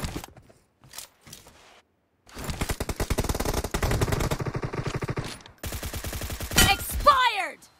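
Gunfire in the mobile shooter BGMI: a few isolated shots at first, then a long rapid automatic burst lasting several seconds, followed by another sustained burst, loud and close.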